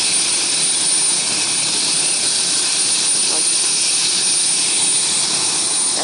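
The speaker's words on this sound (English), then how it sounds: "Helicopter just coming in." Loud, steady turbine roar of a helicopter arriving close by at Bayou Corne, Louisiana, a constant heavy whine with no break and no talking.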